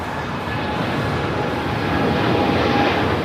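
A steady, loud roar from an airliner bound for Newark at LAX, a broad continuous rumble that builds gently toward the end with no voices over it.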